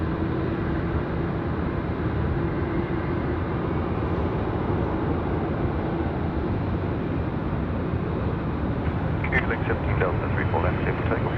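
An Emirates airliner at Sydney Airport produces a broad, steady jet roar that stays constant throughout, with some faint background chatter toward the end.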